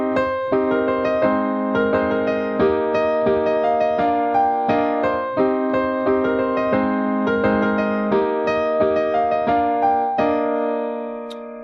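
Solo piano playing four measures of the instrumental section of a song: a steady, rhythmic pattern of repeated chords and a melody line, clear and close, with the last notes ringing out.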